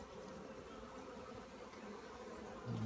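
Honey bees swarm and buzz steadily over an opened hive during an inspection, a dense continuous hum close by with no talking.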